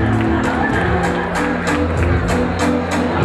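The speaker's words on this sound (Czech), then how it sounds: "Tak ještě jednou potlesk." Guests at a school prom ball in a Plzeň hotel burst into steady, lively applause with scattered cheers, the rhythmic clapping filling the room throughout.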